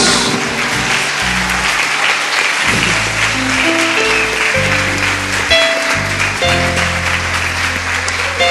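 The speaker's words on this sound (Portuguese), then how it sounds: "Você pode dar um aplauso ao Senhor Jesus?" Church congregation applauding during a worship service, sustained full clapping throughout while sustained music chords play beneath.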